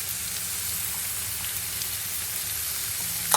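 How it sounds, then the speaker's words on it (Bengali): Vegetables fry in a pan in a Bangladeshi home kitchen, a steady, quiet sizzle and crackle that holds throughout, alone without talk, ending with a brief louder clink. "এটা অলমোস্ট ফ্রাই হয়ে গেছে, এখন এগুলো দিয়ে দেবো"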